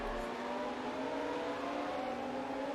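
Retro Formula 1 race car engines in a racing video game, a steady droning whine with layered harmonic tones held throughout at even loudness, no talk.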